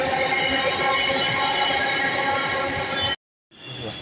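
A Bangalore metro train on the Challaghatta–Whitefield line near Tin Factory station rumbles and roars steadily up close, then cuts to near silence for a moment before the rolling noise resumes.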